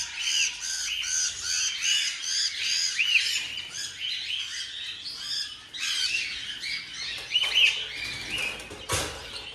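Pet silver-line birds, including a recessive silver, squawk and chirp almost without pause in a busy, bright chorus, with shrill calls overlapping and a brief flutter near the end.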